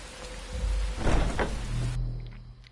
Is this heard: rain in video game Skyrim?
yes